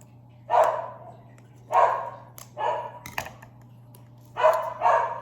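A dog barks indoors in a series of sharp single and double barks at irregular intervals, moderately near, over a steady low hum.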